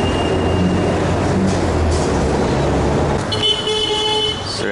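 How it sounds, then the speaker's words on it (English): A metro bus in Lima hums and rumbles steadily from inside, loud road and engine noise throughout with a brief high tonal whine or beep near the end. "I'm gonna take the metro bus."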